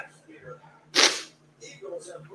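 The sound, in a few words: sneeze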